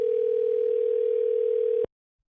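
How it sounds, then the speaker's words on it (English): Single steady ringback tone on a phone call, held unbroken for nearly two seconds before cutting off abruptly, with no voices over it. "I know you hear the phone ringing."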